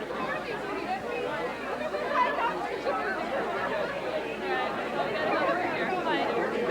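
Dense crowd chatter fills a room at a ten-year high school class reunion, many overlapping voices forming a steady, close babble with no single speaker standing out.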